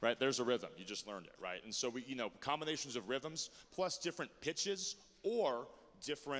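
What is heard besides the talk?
No everyday noise stands out behind the speech.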